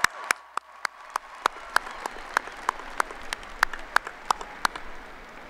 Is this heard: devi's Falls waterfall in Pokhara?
no